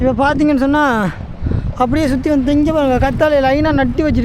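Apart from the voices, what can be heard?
No everyday noise stands out behind the speech.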